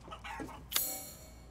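Chickens clucking in the Resident Evil Village video game, a few soft fowl clucks near a farmhouse followed by a sharper burst, fading out alone with no talk.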